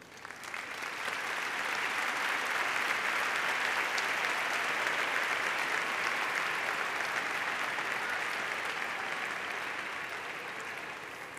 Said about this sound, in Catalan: crec que us mereixeu un fort aplaudiment.